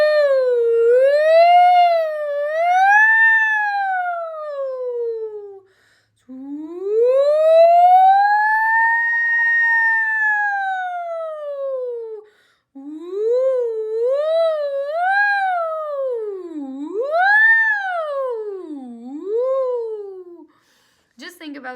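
A singer's warm-up glides the voice smoothly up and down in long siren-like sweeps, three loud sustained phrases separated by short breaths, imitating a siren.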